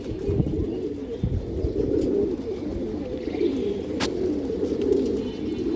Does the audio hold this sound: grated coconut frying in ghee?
no